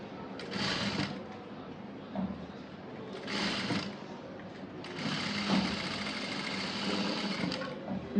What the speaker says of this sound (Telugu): మళ్ళీ డబల్ స్టిచ్ అయితే వేసుకుంటూ రావాలి